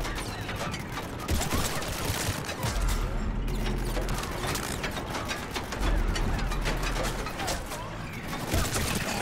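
Sci-fi gunfire from Mass Effect 3 on Xbox 360 rattles in dense, continuous bursts with mechanical clanks and impacts, loud and busy throughout the combat.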